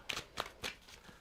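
Tarot cards are shuffled up close in a few quick riffling bursts, with soft papery flutters repeating about every quarter second and fading out.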